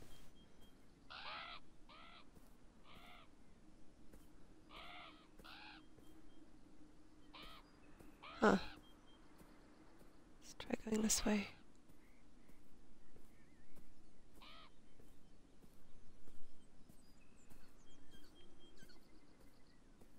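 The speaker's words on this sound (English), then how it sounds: "we don't like crows" Crows caw in the video game Beyond Eyes, with two harsh bursts near the middle over a soft, steady ambient bed, and someone speaks briefly before them.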